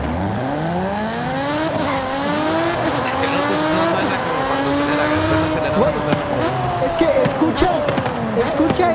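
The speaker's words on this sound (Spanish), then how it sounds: "Escucha el cambio que hace de marchas Kraken. Eso es lo que suena la Fórmula 1." A video-game race car engine screams in a high, rising whine likened to a Formula 1 V10, with pitch drops at gear shifts and a tire squeal; it is continuous and loud, with people talking over it.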